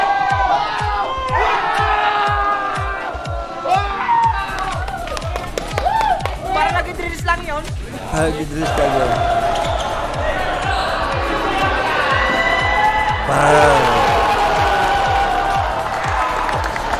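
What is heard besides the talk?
basketball crowd cheering and applauding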